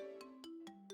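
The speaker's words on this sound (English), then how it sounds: "That's my phone." Mobile phone ringtone: four short, evenly spaced chiming pulses over a soft sustained tone, quiet and clean, with no talking.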